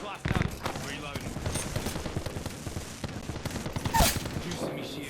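Rapid bursts of video game gunfire crackle repeatedly from close range, dense and loud, with a player talking over the shots.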